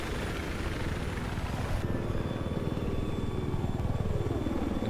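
A helicopter in the Battlefield 4 video game thrums with a steady, loud rotor chop and engine drone, continuous and close throughout, with a faint pitch shift partway through.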